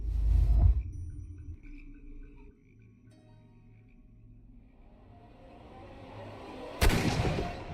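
Gunfire in the Sherlock Holmes: Crimes and Punishments video game: a loud, booming shot opens, then a quiet stretch, then a second sharp, bright blast close by near the end.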